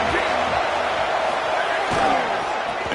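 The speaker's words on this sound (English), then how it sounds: "Listen to the crowd energy here in the early going." A dense, steady roar from a packed stadium crowd at a Clemson vs Notre Dame college football game, loud and continuous with a faint thump or two within the wash of noise.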